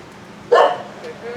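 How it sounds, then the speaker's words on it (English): A single short dog bark, fairly close, rises out of quiet outdoor background in a village-like lane near a small train. "Oh, there's a dog here."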